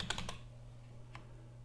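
Several quick computer keyboard keystrokes close together at the start, then a single later key press like hitting enter, faint and isolated over a steady low hum during setup of a FlareVM virtual machine.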